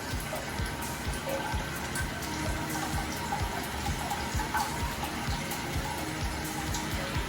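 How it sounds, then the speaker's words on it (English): Water steadily refilling a toilet tank after the supply valve is slowly reopened, a continuous close hiss and trickle with splashy texture that stays even throughout, no voices. "That way you don't allow too much pressure of water to get to the tank all at once."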